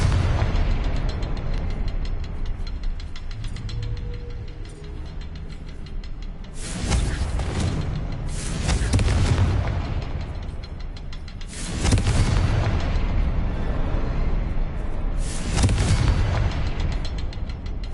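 Repeated Confringo blasting spells in the video game Hogwarts Legacy: a series of loud, booming explosions in bursts of two or three, separated by brief lulls of lower rumbling game ambience.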